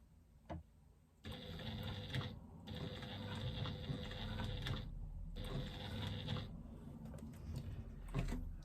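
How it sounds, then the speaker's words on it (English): A hand-cranked sewing machine stitches a retro clutch bag while strap connectors are added, a close, quiet, steady mechanical whirring and clatter in two long runs with a short pause between them. "If you can't stitch one stitch at a time like this, then do hand crank it."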